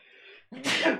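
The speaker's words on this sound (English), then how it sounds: "I'm gonna sneeze." A short intake of breath, then a single loud, explosive sneeze close by.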